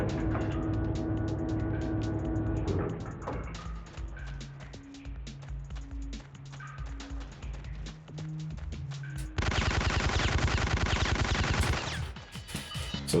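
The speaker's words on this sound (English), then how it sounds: "we'll just shoot or blow it up" Repeated gunfire in the stealth shooter Syphon Filter as guards are shot, with sharp bursts of shots over a game music bed, turning into rapid continuous automatic fire late on.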